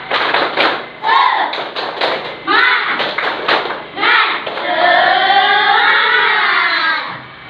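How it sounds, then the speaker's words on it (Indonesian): Schoolchildren doing a rhythmic spirit clap in class, patterned claps and thumps chanted in a singsong chorus of young voices that ends in a drawn-out group shout. "Nah, tepuk semangat dulu."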